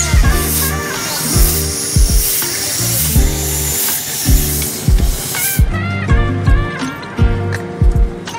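A goli soda bottle being opened, giving repeated sharp pops and bursts of fizzing hiss in a rhythmic series, loud and close, with background chatter.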